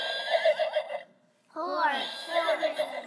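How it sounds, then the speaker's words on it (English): A horse whinnies in a loud, wavering neigh that breaks off briefly and then returns with a second rising-and-falling whinny, heard close with no other sounds. "That is a horse."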